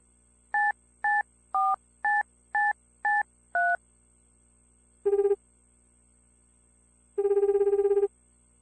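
Telephone sounds from the dating-sim video game Tokimeki Memorial 2: seven evenly spaced keypad dialing beeps, then a short electronic ring burst and a longer ring tone, clear and alone against near silence.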